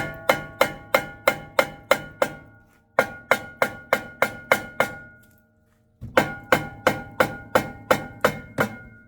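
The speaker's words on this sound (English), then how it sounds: "So I'm gonna grab a hammer, hit this with a hammer, let it pop out." Mallet blows strike a Ford Escape rear brake caliper in three steady bursts of sharp, ringing metallic knocks, about eight evenly spaced hits each, loud and close, with brief pauses between bursts.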